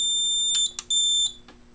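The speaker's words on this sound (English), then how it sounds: "The system trouble, the piezo will sound again." Piezo sounder on a fire alarm control panel beeping after a system reset, giving three sharp, close, high-pitched electronic tones over a faint steady hum, with no talk.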